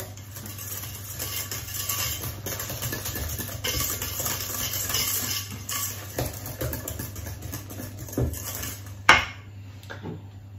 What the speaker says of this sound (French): j'ajoute 200 g de poudre d'amande. On mélange de nouveau.